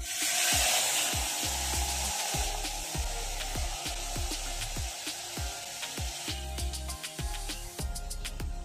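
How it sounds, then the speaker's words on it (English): Onion sizzling in a pot of biryani cooking over an open campfire, a steady frying hiss under a series of sharp, regular knocks and scrapes that repeat every half second or so, fairly close. "We are making biryani on the fire, so I'm adding in the onion."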